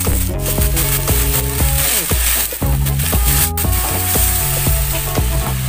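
Sausages sizzling hard in a pan after a splash of water, a loud continuous crackle and spit with irregular clattering scrapes and knocks of a utensil stirring, no talking.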